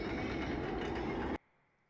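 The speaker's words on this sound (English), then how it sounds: "Is that like a train yard?" A train rumbles loudly and steadily through a train yard in the anime Death Note, then cuts off abruptly, leaving only a faint hum.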